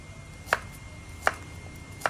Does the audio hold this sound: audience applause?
no